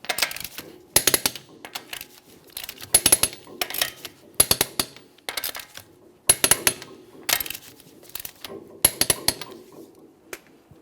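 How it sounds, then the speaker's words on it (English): Torque wrench tightening lug nuts on a 2014-2018 Mazda 3 wheel to 100 foot-pounds in a crisscross pattern, loud close metallic clicks in repeated bursts with short pauses between nuts, no talking. "we'll torque each of our lug nuts in a crisscross manner to that 100 foot-pounds"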